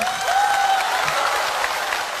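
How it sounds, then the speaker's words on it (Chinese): A studio audience at a Chinese television talk show applauds, a short steady burst of dense clapping, fairly loud and close. "你们这个是给她的掌声吗？"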